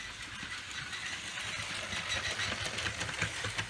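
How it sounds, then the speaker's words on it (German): A LEGO electric toy train from a 1975–77 Western town set pulling away, giving a steady, close motor whir with faint rhythmic rattling over the track, continuous and without talk. "Jetzt fährt der Zug wieder ab"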